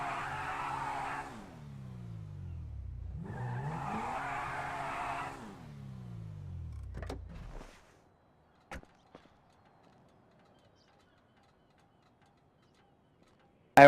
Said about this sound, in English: Again giving some throttle to hear the engine sound